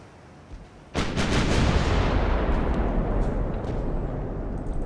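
Heavy naval guns of 1895 battleships, 11-inch main guns alongside 5-inch side guns, fire in Ultimate Admiral Dreadnoughts: a sudden deep booming salvo erupts, then a loud rumbling roar rolls on and slowly fades, with a few fainter crackles after.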